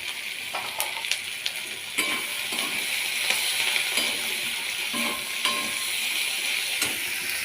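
Chopped onion stalks fry in a pan with a bright, continuous sizzle, and a spatula stirs and taps against the metal now and then, close and without speech.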